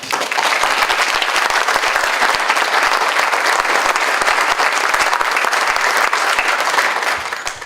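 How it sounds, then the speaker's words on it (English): Sustained, loud applause from a seated audience at a school system's teachers of the year and retirement ceremony, dense steady clapping continuing for several seconds before tapering slightly at the end. "One more time, a round of applause."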